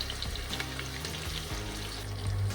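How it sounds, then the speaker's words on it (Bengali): Thinly sliced onions fry in oil in a pan, a steady soft sizzle with faint stirring and a low hum underneath, heard alone without talk. "হালকা লালচে করে এগুলো ভেজে নেব"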